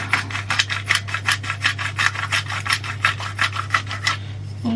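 A pepper grinder crunches out peppercorns in a steady run of about twenty rasping twists, close and loud, stopping just before the end.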